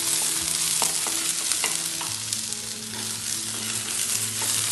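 Onion, chopped chilli and ginger garlic paste sautéed over a low flame, a dense continuous sizzle with occasional spatula scrapes and taps against the pan.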